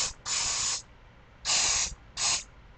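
Silicone spray hisses into cups of acrylic paint for pouring in three bursts, one long, one medium and one short, each a loud, close, steady rush with brief quiet gaps between.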